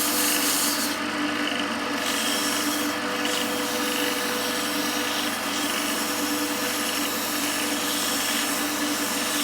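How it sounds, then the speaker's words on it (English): Sandpaper rubs against a spinning wooden pen blank on a lathe, producing a loud continuous abrasive hiss over the lathe's whir, with slight surges as the pressure shifts. "Sands really well."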